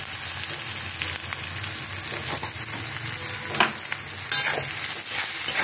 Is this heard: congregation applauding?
no